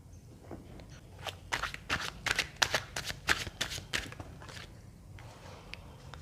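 Tarot cards being shuffled by hand at close range, a dense run of quick riffling flicks and soft slaps that builds in the middle and tapers off, with no talking.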